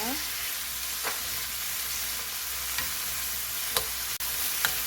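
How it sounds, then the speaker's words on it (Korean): Drained potato and carrot strips stir-frying in a pan over medium heat, giving a continuous even sizzle with a few faint scrapes and taps of a utensil, close by and without voices. "물기 뺀 감자를 넣어 줍니다. 당근을 같이 넣어 주세요. 중불에서 볶아 줍니다."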